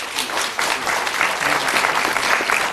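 An audience at a Newport Beach city council meeting applauding after a public speaker: a steady, dense round of clapping from a crowded chamber, sustained for under three seconds with no pause.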